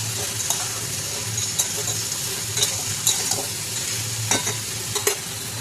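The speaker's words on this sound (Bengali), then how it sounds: "এটাকে এইভাবে হালকা আছে ধীরে ধীরে ভালোভাবে ভেজে নেব" Turmeric and other ground spices fry in a pan while being stirred, giving a steady close sizzle with repeated scraping strokes of the spoon throughout, no talking.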